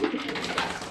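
Young racing pigeons coo in a dusty loft, soft throaty burbling calls close by over a busy background of birds.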